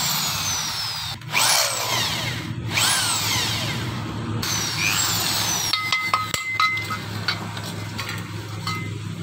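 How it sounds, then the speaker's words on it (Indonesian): A power drill bores a hole through the center of a workpiece, its motor whining steadily with rising and falling pitch sweeps and a few brief pauses. The drilling is close and loud, with no talking. "bagian tengah ini kita lubangin"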